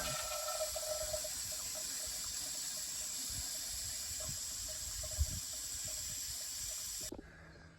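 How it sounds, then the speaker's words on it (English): Coolant spilling and hissing out of a John Deere compact tractor (4052M/3038E type) during a cooling system flush with a vacuum tool, a steady continuous watery rush that cuts off abruptly near the end. "it's going to spit out a little bit extra coolant"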